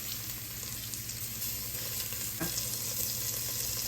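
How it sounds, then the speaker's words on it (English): Pressed garlic sizzles in melted butter in a pan, a steady close frying hiss with a faint stirring scrape partway through and no voices. "Let that cook in the butter for just a very short amount of time."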